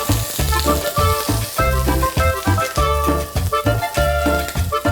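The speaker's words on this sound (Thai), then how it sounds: "ใส่หอมแดงบุกลงไปครับ กระเทียมบุกครับ รากผักชีครับ เดี๋ยวเราผัดให้หอมครับ" Shallots, garlic and coriander root fry in hot oil, giving a loud, close, steady sizzle with rhythmic bursts of stirring and no voices over it.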